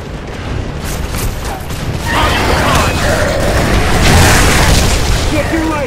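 Dense, continuous gunfire and booming blasts from a Gears of War 3 firefight, loud and sustained throughout, with heavier bursts building in the second half.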